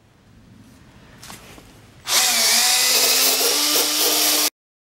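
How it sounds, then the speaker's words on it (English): A 3-inch wire brush on a power drill scrubs a rusty metal control panel. After quiet background, a loud, steady whirring grind kicks in abruptly and runs for over two seconds before cutting off sharply. "next I'm just gonna hit this real quick with a wire cut brush. This is a 3-inch one."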